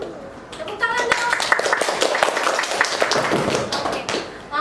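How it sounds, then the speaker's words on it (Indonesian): An audience at a campus talk show with university exchange students claps in a dense, steady burst of sharp hand claps for several seconds, with a few light taps and faint voices mixed in. "Tepuk tangan dong."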